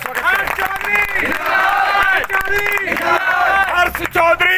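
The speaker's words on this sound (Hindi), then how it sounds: "आइए आप सभी जोरदार तालियां बजा के स्वागत करें।" A crowd at a Congress party rally in Sangam Vihar claps to welcome a speaker, the clapping mixed under loud, harmonically rich voices shouting and chanting through a PA, busy and continuous throughout.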